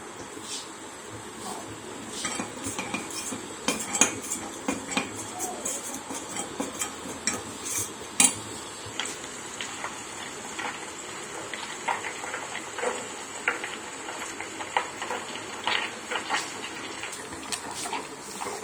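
Ghee boils in a pot, giving off a steady sizzle speckled with irregular small pops and crackles, moderately close.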